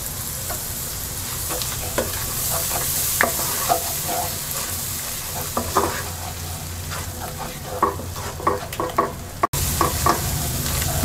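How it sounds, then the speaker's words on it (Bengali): Spice masala with ground coriander and tomato puree fries in a pan for a cauliflower and egg dish, sizzling steadily under repeated scraping stirs and clinks of the spoon, close and with no talk. "মশলাটাকে কিছুক্ষণ কষিয়ে নেব।"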